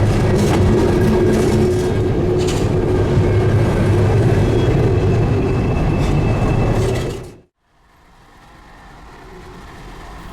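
A CSX freight train of about 80 empty cars rolls slowly past near Thurmond in the New River Gorge, rumbling steadily with rolling wheel noise, loud and near, then abruptly cuts to quieter background.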